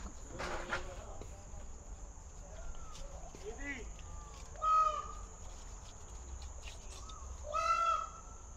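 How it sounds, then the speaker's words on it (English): Two loud, harsh wailing peacock calls ring out a few seconds apart over a steady insect drone, with brief voices in between, at a marina. "That's a peacock."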